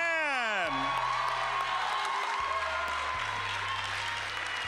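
A student talent-show crowd at Crown College's Mock Rock gives a performer steady applause with whoops and cheers throughout, over a held musical tone and sweeping synth effects at the start.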